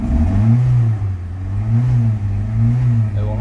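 A Chrysler PT Cruiser with a flashing check engine light, an overheating problem and stalling is revved in repeated swells, the engine rising and falling steadily and loudly close by while never climbing past a capped pitch.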